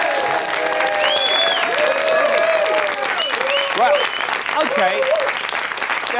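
A studio audience at a 1994 television talk show applauds steadily while people speak over the clapping.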